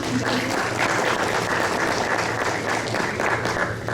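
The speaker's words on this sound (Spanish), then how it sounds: "Un aplauso, por favor, también." Audience applause at a university panel discussion on journalism history in El Salvador, a dense, steady patter of many hands clapping for about four seconds, fading slightly at the end.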